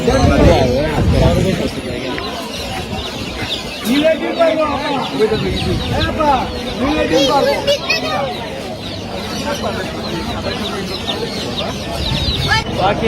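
Chickens cluck and squawk amid a busy bird market crowd in Bangladesh, with people talking throughout and a constant din of voices and animal calls.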